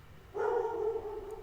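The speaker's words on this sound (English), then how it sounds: "Oh, that's my dog in the background." A dog barks in the background, a single drawn-out bark or yowl that rises abruptly and holds for about a second, moderately faint and heard alone.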